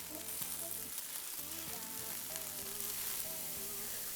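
Cauliflower chicken fried rice with chopped green onions stirred in a hot pan, a faint steady sizzle with soft rhythmic scraping and a low hum of music, no talking.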